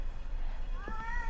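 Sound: screeching cats in a horror video game (ERIE)

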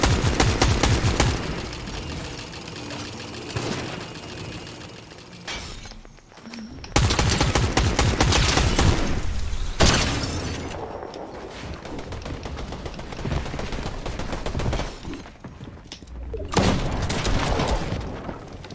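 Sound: gunfire in a video game

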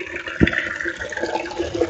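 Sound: water filling a container for terrace garden

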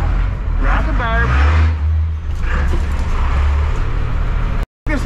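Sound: 7.3 IDI diesel truck engine running

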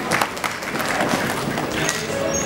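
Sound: audience applause at an awards ceremony

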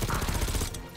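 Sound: gunfire in a video game

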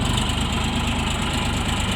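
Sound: Bulat 244L mini tractor three-cylinder engine idling

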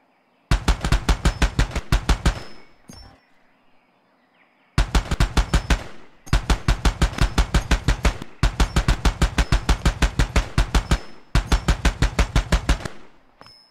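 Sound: ammunition exploding in Far Cry 2 video game

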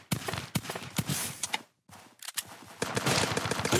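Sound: pistol shots in a zombie video game

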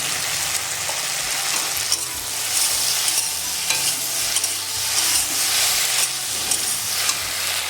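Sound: chopped tomato frying with okra in a pan

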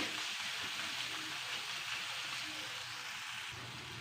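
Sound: turmeric and chili powder frying in oil

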